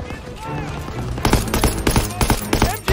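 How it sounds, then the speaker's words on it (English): Rapid machine gun bursts and scattered rifle shots crack in a Call of Duty WWII World War II battle, loud close volleys picking up sharply halfway through amid background battlefield noise. "Covering fire!"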